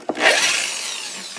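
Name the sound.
drilling holes in a Gibson ES-345 guitar body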